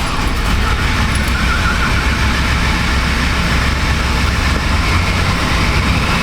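1996 Chevy Astro van engine running with a misfire, a loud, steady low rumble held at raised RPM with constant mechanical noise and no voices.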